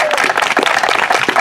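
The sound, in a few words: audience applause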